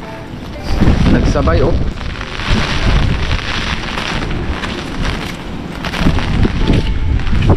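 A strong wind and rain storm lashes farmland, toppling trees, with gusty roaring wind buffeting the microphone over a constant wash of rain; someone speaks briefly over the noise.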